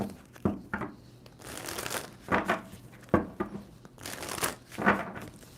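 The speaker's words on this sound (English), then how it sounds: "2 more shuffles for Libra" A deck of tarot cards is shuffled in several separate bursts of soft riffling and crinkling, fairly quiet and close, with pauses between the shuffles.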